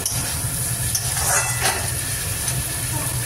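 Fish fries in hot oil, giving a continuous close sizzle and hiss with small crackling surges.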